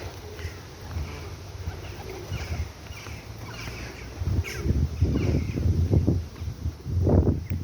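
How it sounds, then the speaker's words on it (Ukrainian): Crows caw a few times outdoors over a steady low hum and light breeze, the calls growing louder and more frequent toward the end. "ворони прилетіли, ці ворони прилетіли"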